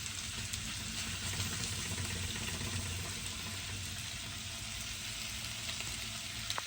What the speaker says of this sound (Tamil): தக்காளி பழமும் கொஞ்சம் வதங்கட்டும்.